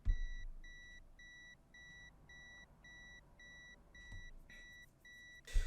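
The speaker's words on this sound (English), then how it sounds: "I apologize for the beeping." Warning beeps in the train simulator game Train Drive ATS 2: a steady series of about ten evenly spaced electronic tones, clear and moderately loud, with a couple of brief thumps near the end.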